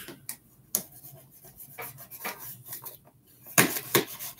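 Knife being sharpened, a series of irregular close metallic scrapes and strokes, a few sharper rasping passes near the end, with no talking.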